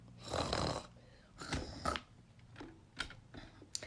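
A dog is snoring during a live story-time broadcast, giving several rough, breathy snorts in an uneven rhythm with quiet gaps between them, fairly close and alone without talk.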